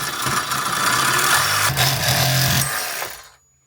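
A power tool cuts a corner off a clamped wooden board for a camping drawer build, giving a loud, continuous buzzing whine that holds for about three seconds and then stops abruptly.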